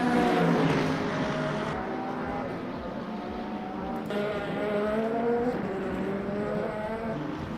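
LMP2 prototype race car engines roar in Le Mans Ultimate at Portimao, a loud, continuous engine drone with rising and falling pitch as cars accelerate and shift through gears.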